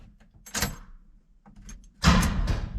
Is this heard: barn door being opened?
yes